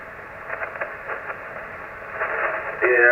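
A weak, interfering radio signal comes through on the 75-meter amateur band after unkeying: muffled, band-limited noise and warbling that grows louder toward the end, with no clear speech.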